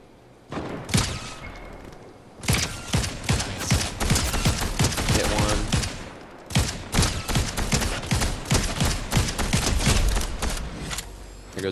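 Rapid bursts of gunfire from the video game Fortnite, a dense fusillade of repeated shots and volleys that pause briefly near the start and again midway before resuming loudly, with faint talk in the background.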